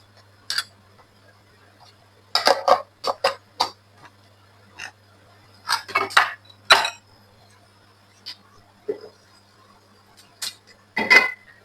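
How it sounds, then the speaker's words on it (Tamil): Mustard seeds crackle in hot oil, ahead of cumin going in: scattered, irregular sharp pops and splutters, close by, some in quick clusters and some alone, with near-silence between them and no voices. "நான் கடுகு போட்டுக்கொள்றேன் கடுகும் பிரிஞ்சு விரைக்க சீரகம் போட்டுக்கொள்றேன்"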